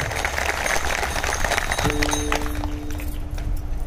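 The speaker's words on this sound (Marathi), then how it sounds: "त्यांच्याकडे पहिला प्रथम टाळ्या होऊ देत जोरदार." Dense applause from a crowd at a Marathi kirtan (devotional religious discourse) fills the whole stretch, steady and loud, with a sustained tone joining partway through.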